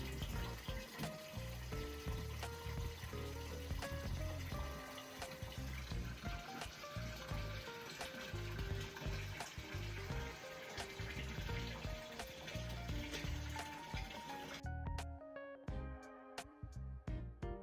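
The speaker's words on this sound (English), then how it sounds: "Now we just have to wait for the tank to fill up." Tap water pours into a large aquarium, a steady rushing, splashing stream that runs continuously for most of the stretch, then cuts off abruptly, leaving a few faint drips and clicks.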